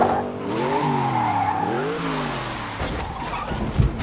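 In a film chase scene, a car engine revs and rises in pitch twice, ending with tires scraping and skidding briefly; the sound is loud and close, with no talk.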